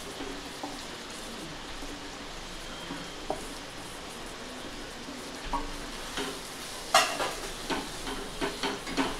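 Onion and fried okra for a dhaba-style masala bhindi stirred in a pan over a low flame, with a steady faint sizzle and a few soft scraping stirs growing more frequent toward the end.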